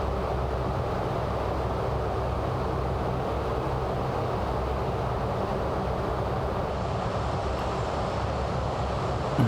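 The four-engine turboprop roar of a Captain Sim C-130 in Microsoft Flight Simulator 2024 holds steady and loud during the takeoff run, a broad, constant drone with no talk over it.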